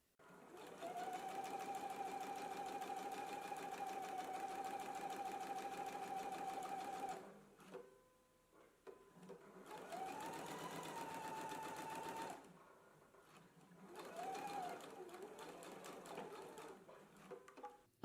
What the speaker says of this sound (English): we're just going to do a row of understitching right here